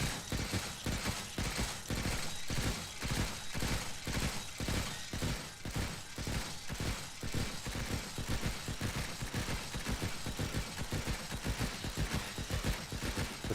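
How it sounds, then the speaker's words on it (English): Turrets fire in Stranded: Alien Dawn, a steady stream of rapid, evenly spaced shots at moderate loudness, continuous and alone throughout. "Firing gallery down there."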